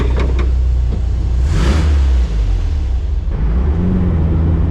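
A 1973 VW Thing engine runs loud and close, revving once in a sharp rise before settling back to a steady idling rumble, with no talk.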